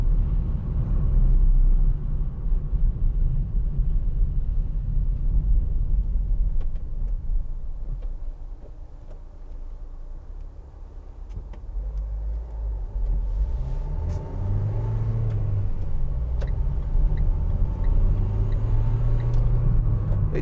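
Steady engine rumble from a 2015 Vauxhall Vivaro 1.6 CDTi ecoFLEX BiTurbo panel van under acceleration, heard from inside the cab, with the drone rising in pitch near the end and no talk.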